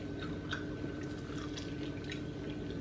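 Close, wet chewing with soft crunches and squishy bites repeating steadily, over a low background hum.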